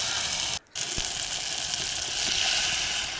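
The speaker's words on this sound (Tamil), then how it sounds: "4 பச்சை மிளகாய் போட்டுக்கலாம். அதுவும் நல்லா எண்ணெயிலே வதங்கி வரட்டும்." Green chillies and tomato sizzling in hot oil in a pan for fish kulambu, a steady broadband frying hiss running throughout, briefly cut out for a moment near the start.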